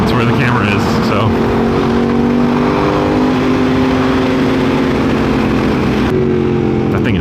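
A loud motorcycle engine, a Yamaha R6 or MT-07, revs and drones steadily close by, with pitch rising and falling throughout and wind noise over it.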